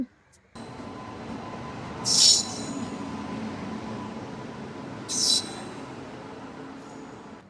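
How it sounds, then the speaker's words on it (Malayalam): A steady rumble of a train rolling past at Edappally at dusk, with two brief bursts of high screeching or hissing partway through, otherwise continuous and fairly even. "ഒരു ട്രെയിൻ ഇവിടെ പോയിക്കൊണ്ടിരിക്കുക."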